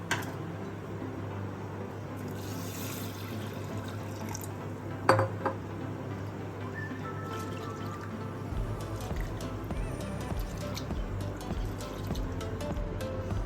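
Water sloshes and drips in a bowl as rice is washed, with soft swishing and occasional clinks, fairly quiet and steady, no voices.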